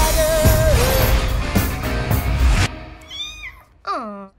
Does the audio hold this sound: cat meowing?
yes